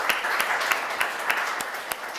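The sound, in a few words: audience applause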